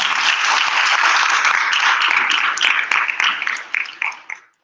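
A loud, dense round of audience applause for a solo Bharatanatyam dancer at her arangetram debut, a steady roar of many hands that holds for a few seconds, then breaks into scattered claps and dies away.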